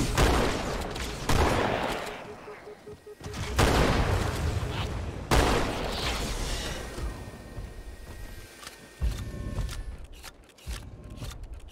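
Rapid bursts of gunfire from a Halo 2 campaign firefight sound loud and close, in several sustained volleys with short pauses, thinning into scattered shots near the end, with occasional voices.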